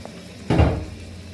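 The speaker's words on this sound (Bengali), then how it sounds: "এখন আমরা ঢাকনাটাকে সরিয়ে দেব।" A lid is lifted off a pot of boiling rohu fish curry (kaliya), giving one short, close metallic clatter over quiet kitchen background.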